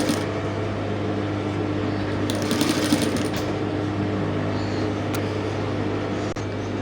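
A sewing machine runs steadily while stitching a curved flounce onto a dress, giving a continuous close mechanical hum with a short rattling burst partway through and no voices.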